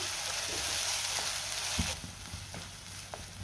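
A ground masala paste sautéing in oil for kharda chicken gives a loud, dense sizzle, with occasional spoon scrapes and taps against the pan; the hiss drops a little partway through.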